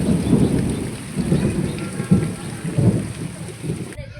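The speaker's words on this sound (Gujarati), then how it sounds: "અત્યારે આ બધું જો વરસાદ આવે છે ધોધ માર" Heavy downpour with thunder at a rural home, a dense steady roar of rain broken by several low rumbling thunder swells, loud and close before cutting off abruptly near the end.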